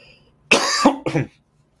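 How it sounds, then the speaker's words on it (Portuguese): A person coughs twice in quick succession, a harsh burst followed by a shorter second cough, close and fairly loud against a quiet background during an interview about a calm election day. "Desculpe, um pouco de tosse."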